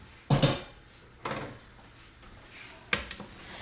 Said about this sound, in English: Now I'm going to stir this and bring it to a boil.